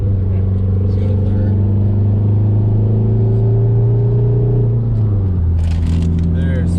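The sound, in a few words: built Volkswagen MkIV TDI car driving through the gears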